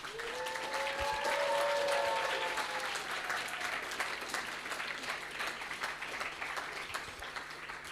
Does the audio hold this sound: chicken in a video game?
no